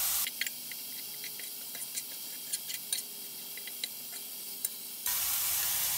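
Sausage frying in a pan, a steady close sizzle with scattered pops and crackles over several seconds, no voices.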